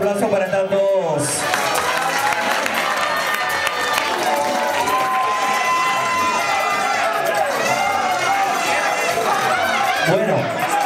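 A lively crowd at a beauty pageant cheers and claps over loud music, shouts and whoops rising throughout, with voices mixed into the noisy hall.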